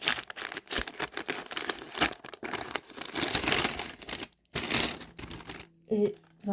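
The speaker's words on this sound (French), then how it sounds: "Je sors la pochette numéro 20 de Scrap Didi que je déchire comme d'habitude par le bas" A small Scrap Didi paper pouch from an advent calendar is torn open from the bottom, giving close, irregular crinkling and ripping bursts with brief pauses and a faint voice near the end.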